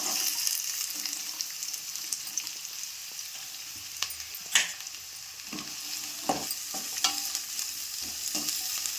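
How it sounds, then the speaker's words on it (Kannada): Onion, green chillies and curry leaves fry in oil, producing a soft continuous sizzle broken by several sharp spatula scrapes and clinks as they are stirred. "ಇದನ್ನೆಲ್ಲ ಸ್ವಲ್ಪ ಕಲರ್ ಚೇಂಜ್ ಆಗೋವರೆಗೂ ಸರಿಯಾಗಿ ಎಣ್ಣೆಯಲ್ಲಿ ಫ್ರೈ ಮಾಡ್ಕೊಳ್ಳೋಣ"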